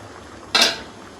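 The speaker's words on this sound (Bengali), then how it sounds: "এবার ঢাকা চাপাটা খুলবো" A single short metallic clatter of a lid lifted off a pot of boiling mango for homemade mango murabba, a brief bright burst standing out against a quiet kitchen background.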